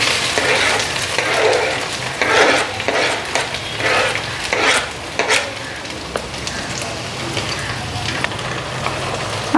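Potatoes and onion fry in a hot wok with a loud continuous sizzle, spattering in rising and falling bursts as they are stirred, close and without talk.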